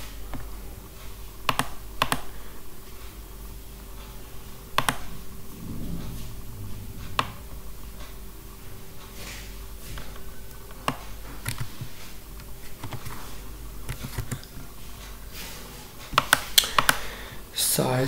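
Computer keyboard typing up an answer for a CS101 programming assignment: scattered bursts of close, crisp keystrokes with pauses between them, over a steady low electrical hum.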